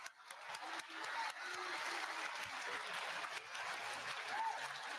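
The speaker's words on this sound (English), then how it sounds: "So one more round of applause for them." Sustained audience applause at a live event, a dense, even wash of many hands clapping that holds steady throughout, with faint voices scattered underneath.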